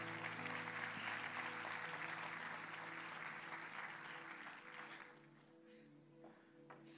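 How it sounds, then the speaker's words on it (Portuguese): Church congregation applauds during a worship service, a dense sustained wash of clapping over lingering keyboard chords, tapering off toward the end. "Vamos aplaudir o Senhor por louvor lindo que nós temos."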